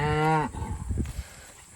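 A cow gives one long, loud moo close by in a new paddock on a regenerative farm, then trails off into quieter shuffling and low background noise.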